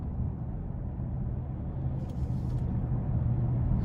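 A 2018 Genesis G80 Ultimate's engine rumbles steadily at close range, its low drone swelling slightly toward the end as it accelerates.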